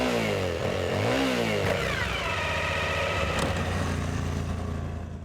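A 2015 Suzuki V-Strom 1000 motorcycle engine revs up and down near at hand, pitch rising and falling through a few throttle blips before settling into a steady drone that fades slightly at the end.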